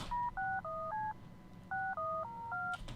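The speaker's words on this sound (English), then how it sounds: "And then I even got this little dial tone I put on a MIDI." Telephone touch-tone keypad beeps used as a MIDI part in a hip-hop mixtape beat: a quick run of four dual-tone beeps, a short pause, then another run of four, clear and prominent over a low background.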